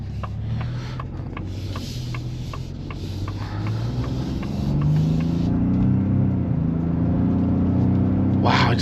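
A 2024 Ford F-150 Platinum Plus Hybrid pickup accelerates, its low engine rumble rising steadily from inside the cab, with faint clicks early on and a short burst of noise at the very end.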